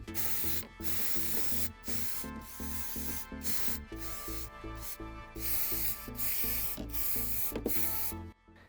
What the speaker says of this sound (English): clean everything good with the brake cleaner, and that's it for the oil filter.